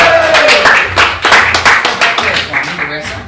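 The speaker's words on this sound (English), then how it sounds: "Give her a big round of applause." An audience claps for a birthday girl called up on stage at a magic show, a dense round of applause with a voice talking over it throughout.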